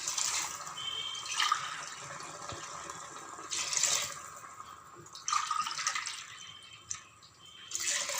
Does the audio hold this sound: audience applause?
no